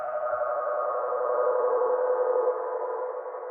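A held synth sample with a shimmer effect sustains a bright, airy midrange tone with gentle wavering movement, steady and alone for several seconds.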